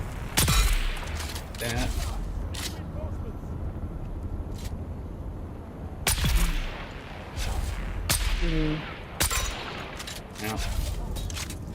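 Gunfire from weapons in the video game Dune Awakening, a series of sharp loud shots and bursts scattered over steady game ambience, with players talking over the action throughout.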